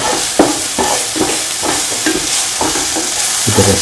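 Egg vermicelli mixture is stirred to work in salt, giving a loud, close run of regular scraping strokes about twice a second over a faint sizzle, with no voices.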